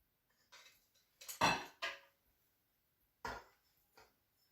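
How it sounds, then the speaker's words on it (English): Cooked rice spooned into a bowl, heard as a few soft, quiet scoops and light clinks of a spoon against the dish, separated by short silences. "I'm going to start by putting some rice in a bowl."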